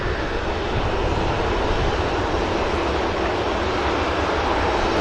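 An EasyJet Airbus A321neo bound for Paphos departs from Manchester Airport with a loud, broadband engine roar that stays steady and close throughout, with no voices.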